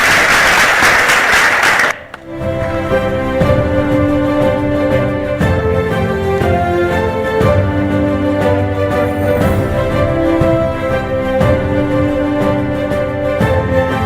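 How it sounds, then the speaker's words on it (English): A burst of loud applause at a women's awards ceremony lasts about two seconds, then gives way to sustained instrumental music with steady, held notes. "Let's have a huge round of applause, everyone"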